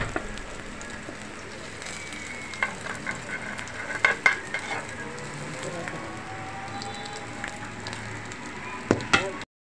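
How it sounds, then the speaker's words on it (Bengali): Fish frying in a pan, a faint steady sizzle with occasional utensil clicks and scrapes against the pan. "মাছ ভাজা হয়ে গেছে। এখন নামিয়ে নেব।"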